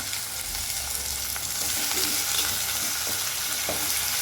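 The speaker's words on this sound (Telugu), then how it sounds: "మెంతి అయితే ఆయిల్లో బాగా ఫ్రై కావాలండి" Washed fenugreek leaves fry in hot oil for a tomato fenugreek curry, a dense, even sizzle with light stirring scrapes, close and steady with no voices.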